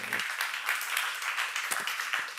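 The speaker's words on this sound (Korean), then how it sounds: "박수 하세요" A church congregation at a seminar applauds, dense steady clapping from many hands filling the room throughout.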